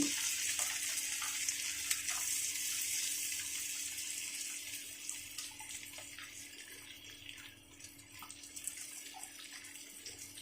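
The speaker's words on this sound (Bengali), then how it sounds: "দিয়ে দিচ্ছি পেঁয়াজ কুচি," Chopped onion fries in a pan during egg pasta cooking, a faint steady hiss with occasional small crackles and stirring sounds, quiet and with no talk.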